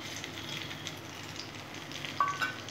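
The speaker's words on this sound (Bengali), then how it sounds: "গোটা মশলা, গোটা গরম মশলা, সাথে শুকনো লঙ্কা আর গোটা জিরেটা আমি একটু সুন্দর করে ভেজে ভেজে নেব।" Whole spices, bay leaf, dried chillies and cumin fry in hot oil in a pan, giving a steady, soft, close sizzle with a few slightly louder crackles near the end.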